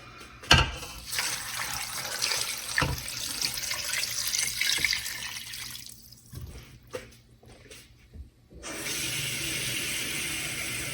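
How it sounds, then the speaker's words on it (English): Water pours and splashes into a pot full of bone broth ingredients, an up-close hissing stream with a few knocks that thins out, pauses, then resumes steadily, with no talking. "Now I'm gonna add the water."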